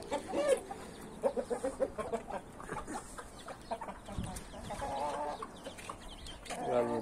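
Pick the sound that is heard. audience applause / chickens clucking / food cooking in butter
chickens clucking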